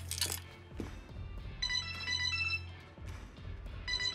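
A phone ringtone plays in a busy room, its melodic electronic notes repeating over background clatter and movement.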